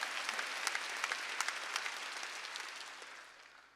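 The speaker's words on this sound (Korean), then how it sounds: "지금 하나님이 여러분이 깨달아서 감사 박수 치는 것도 보고 있어요." A church congregation at a Wednesday worship service claps in thanks, a soft, steady wash of many hands heard from a distance that slowly fades out.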